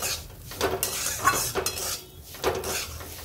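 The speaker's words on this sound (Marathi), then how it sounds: "विलायची, बदाम आणि मनुके पण टाकू। आता याला मिक्स करून घेऊ।" Cardamom, almonds and raisins stirred in a pan for jaggery sheera, with repeated close scraping and clinking of a utensil against the metal in uneven bursts, no voices.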